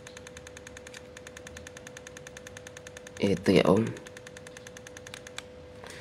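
A repaired Godox V850 camera flash fires repeatedly, giving faint regular clicks and a steady high whine while someone talks briefly over it.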